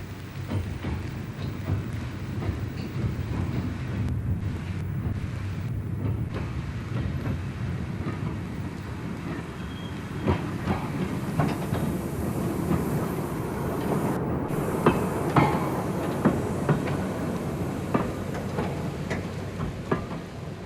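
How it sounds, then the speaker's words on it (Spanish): Replica Stephenson Planet steam locomotive hauling a train, with a steady rumbling roll and rhythmic clickety-clack of wheels over rail joints, continuous and fairly close throughout, growing slightly busier toward the end. "La Planet era el primer prototipo de una serie nueva de locomotoras"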